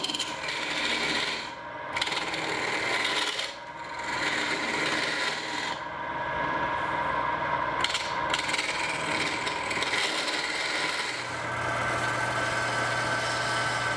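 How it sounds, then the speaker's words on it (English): Lathe turning a brittle bowl of polyester resin and wood, a continuous close rasping and scraping drone with a steady motor hum and a few brief dips as the cutting tool lifts off. "Honestly, I've never turned this much polyester resin before, so it's very brittle, and I hope it stays together."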